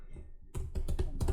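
Rapid keystrokes on a computer keyboard, a quick cluster of close, crisp clicks following a brief quiet start, with no voices.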